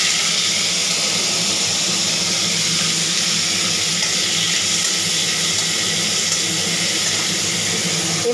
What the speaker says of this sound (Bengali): তেলটি গরম হয়ে গেছে, দেখুন। আমি এবার কপিগুলো ছেড়ে দিচ্ছি।